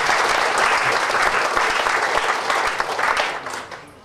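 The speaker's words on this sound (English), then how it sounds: "Give them a round of applause." Sustained applause from a conference audience at a welcome reception for a Queensland Landcare conference, dense clapping from a crowd filling the room, steady and loud before tapering off at the end.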